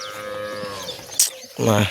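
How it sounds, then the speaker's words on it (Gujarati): A cow moos, a drawn-out low call, followed by a short noisy rustle and the start of another deep moo. "આ છે અમારી લોક લાડીલી ગાય"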